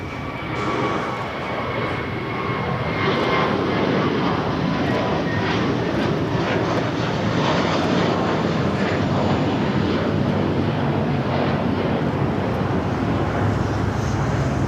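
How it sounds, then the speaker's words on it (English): A JetBlue Airbus A321 jet takes off at LAX, a loud sustained engine roar with wind buffeting that holds steady for the whole stretch, heard from near the runway. "Next takeoff is a flight heading to Fort Lauderdale. JetBlue Flight 100, A321."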